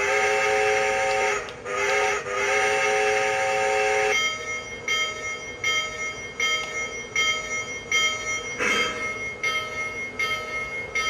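A Lionel Union Pacific Flyer O gauge toy train runs steadily nearby, giving a whistle-like tonal hoot with bursts in the opening seconds and then a continuous rolling hum with faint rhythmic clicks, with no talking.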